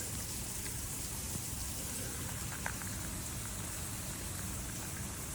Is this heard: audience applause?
no